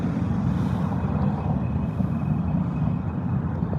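A train rolls past close by, a steady loud rumble of wheels and cars filling the whole stretch without a break.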